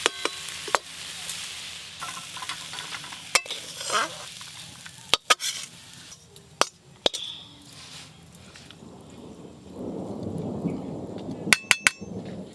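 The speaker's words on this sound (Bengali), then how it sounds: "পাশে মেঘ গুড় করতেছি" Nearby thunder rolls in as a low, swelling rumble toward the end, heard over outdoor cooking sounds with sizzling and sharp clicks and clatters.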